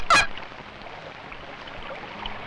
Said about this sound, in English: Canada geese, who have chosen to make their nest where normally only hawks dare.